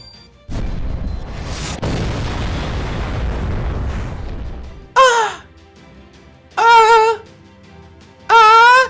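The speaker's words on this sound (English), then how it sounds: "Fire our final weapon! The 7-link heroic spear cannon!" A heroic spear cannon firing and exploding in the video game Fate/Grand Order, a sudden blast followed by a long roaring explosion lasting several seconds, then three loud high wailing screams in separate bursts.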